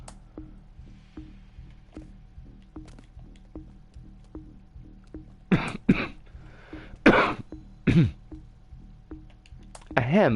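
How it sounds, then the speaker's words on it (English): A man clears his throat several times in short, rough bursts during a casual gaming session, close and loud over a steady faint clicking of keys or a controller. "That was not a cough, that was me clearing my throat."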